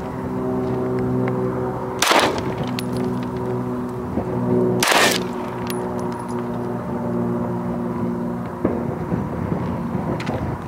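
Two loud, sharp gunshots from a gun fired outdoors, a few seconds apart, each with a short ringing tail over a steady background hum and faint rattles.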